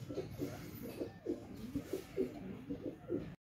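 Pigeons kept in a loft cooing nearby, a soft repeated rhythm of low coos across a few seconds before cutting off.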